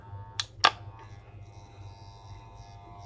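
A repaired Wahl 300 hair trimmer runs with a steady low electric buzz and a faint high whine, close up, after two sharp clicks at the start.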